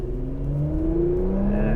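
A 434 hp Porsche Macan Turbo engine pulls hard with a rising, whirring tone that climbs steadily over under two seconds, close and fairly loud with no talk.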